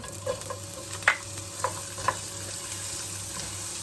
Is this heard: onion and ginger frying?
yes